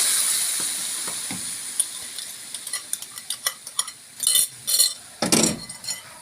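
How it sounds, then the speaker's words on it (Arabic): Flour is stirred into melted honey and sugar in a pan. A soft low sizzle runs beneath a quickening run of utensil clinks and scrapes against the pan, ending in a few louder scraping strokes nearby. "وهنقعد نقلب لغايه ما الدقيق بتاعنا يستوي"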